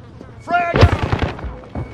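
A frag grenade blast in the Call of Duty: Modern Warfare game goes off as a single loud, close detonation that trails into rumbling debris. A voice speaks just before it.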